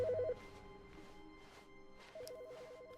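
A telephone ringing in the video game The Stanley Parable, a quiet electronic warbling ring that stops and then starts again later, over a faint musical background hum.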